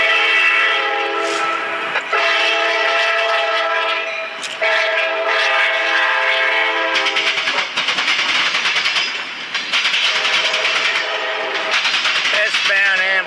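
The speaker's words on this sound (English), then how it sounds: "Westbound Amtrak, California, San Joaquin, approaching the Stockton, California depot." A westbound Amtrak California San Joaquin passenger train approaches the Stockton, California depot, sounding loud sustained horn blasts over rolling wheel noise and clatter, close and prominent.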